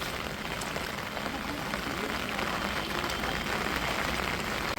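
Steady rain pours down without pause at a flooded coastal home, its dense broadband hiss filling the whole stretch evenly, close and fairly loud.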